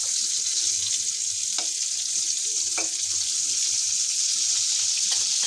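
Chicken fries in a shallow layer of oil, giving a steady, close, even hiss with a few faint clicks and pops throughout, and no talking.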